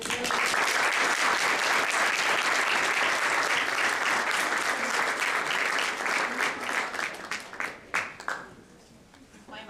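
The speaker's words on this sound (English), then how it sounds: "Can we have another round of applause for that?" A crowd applauds loudly and continuously, the clapping thinning and tapering off toward the end.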